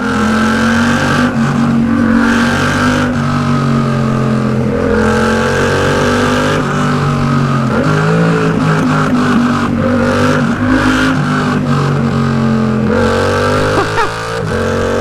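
A Yamaha R7 sport motorcycle engine howls close by for a long stretch, revving up and down through repeated rises in pitch, loud and continuous.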